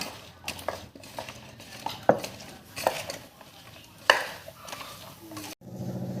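Raw fish is mixed in a bowl with coriander powder, cumin powder and mustard oil, giving close, irregular clinks and scrapes of a utensil against the dish in scattered bursts.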